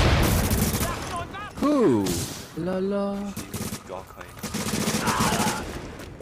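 Gunfire in the shooter game The Division: sustained bursts of shots and booms rolling under excited talking and shouting, loud and close throughout.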